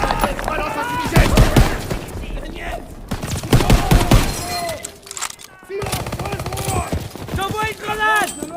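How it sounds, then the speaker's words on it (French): Machine gun fire in Call of Duty WWII, rapid bursts of shots loud in the mix, broken by short pauses, with voices talking over and between the volleys. "On est coincé par cette mitrailleuse."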